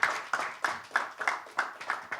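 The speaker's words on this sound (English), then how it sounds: "Big round of applause, ladies and gentlemen" Rhythmic clapping at a pickleball championship press conference, in steady beats, roughly three claps per second, moderately loud with no voices.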